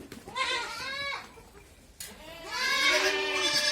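Beetal goat kids on a goat farm bleat twice, close and loud, each call a wavering, quavering cry lasting over a second, separated by a short quieter pause.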